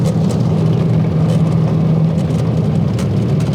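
A Porsche car drives past close by, its steady low engine drone and tyre rumble filling the scene at a constant loud level with no voices.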